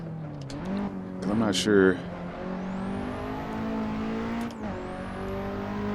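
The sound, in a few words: Nissan S15 Silvia engine revving with turbo, in a driving game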